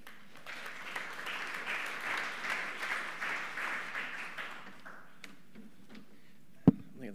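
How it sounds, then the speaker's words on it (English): A conference audience gives a speaker a round of applause, moderately loud rhythmic clapping that fades after about five seconds, followed by quiet room tone and a single sharp knock. "Big round of applause for Stu."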